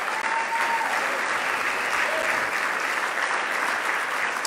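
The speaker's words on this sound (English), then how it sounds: "Let's also give a round of applause to the men and women who served this country in uniform" Sustained audience applause at a plenary luncheon, steady dense clapping from a large crowd throughout, with no talk over it.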